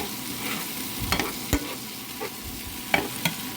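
Mushrooms sizzle softly in a pan while a utensil stirs them, with a low continuous fry broken by a handful of sharp scraping clicks, close and fairly quiet.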